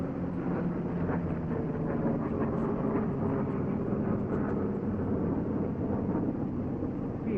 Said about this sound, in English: Let's go back and see your takeoff again.